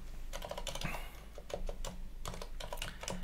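Someone types on a computer keyboard while naming a system and entering a password during a Linux install. Quick bursts of light key clicks come close by and fairly quiet, with short pauses between them.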